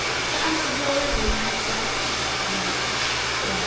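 A hair blower runs steadily for the whole stretch, a loud continuous airy whoosh with a low motor hum underneath during hair rebonding work, with no talk over it.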